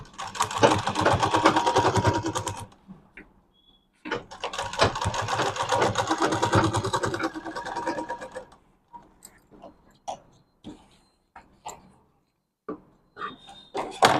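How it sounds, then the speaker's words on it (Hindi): A sewing machine stitching a medium-size fabric bag, running in two sustained whirring bursts of a few seconds each, followed by scattered short clicks and taps as the material is handled. "यहाँ पे हम इसको भी इस तरह से सिलाई लगा देंगे"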